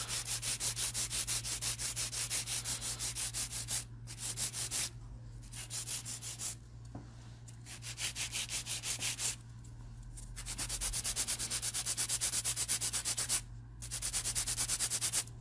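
A nail file rasps back and forth over a long artificial nail to taper it, with fast, even, close strokes in several bursts separated by short pauses, under a steady low electrical hum.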